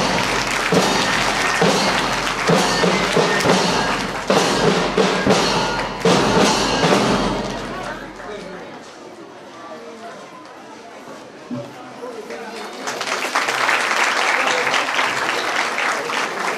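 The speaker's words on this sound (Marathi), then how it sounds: "टाळ्या झाल्या पाहिजे जोरात" Loud applause from a school audience at the New English Medium School Karanje annual gathering and prize distribution, a dense clapping crowd that fades midway under murmuring and then swells again toward the end.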